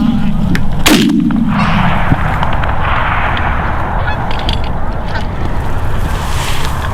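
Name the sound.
shotgun shots while hunting geese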